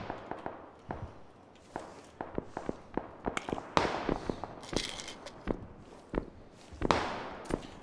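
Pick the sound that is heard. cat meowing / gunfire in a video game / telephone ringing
gunfire in a video game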